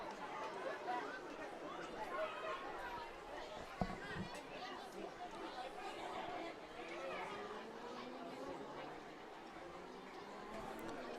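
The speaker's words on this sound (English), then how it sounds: "Crowd still buzzing here." Steady buzz of a large ballpark crowd at a baseball game between the Eastside Diamond Hoppers and Westside Woolly Mammoths, dense overlapping chatter filling the stands at an even level throughout, with one brief sharp knock partway through.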